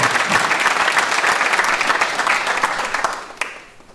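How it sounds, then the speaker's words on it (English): Sustained applause fills a hall at a college graduation ceremony for Building Services Engineering students, a dense, loud wash of many clapping hands that gradually thins and fades out near the end. "Another round of applause, please, for the agency Building Services Engineering students."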